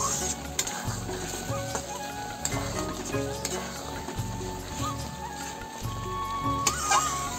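Pointed gourd pieces sizzle in a spice paste while a ladle scrapes and stirs the pan in a regular rhythm of close, scraping strokes over a constant frying hiss.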